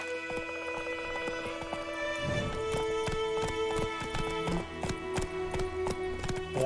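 Geralt's horse Roach gallops in The Witcher 3, its hooves striking in a quick, steady clip-clop rhythm over sustained background game music.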